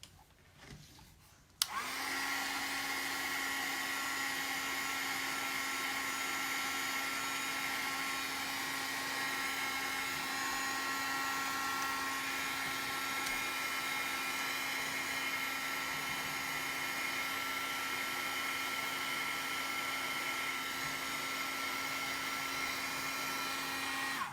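After a brief quiet moment, a heat gun switches on and blows a steady, loud whooshing roar with a constant motor hum until the end.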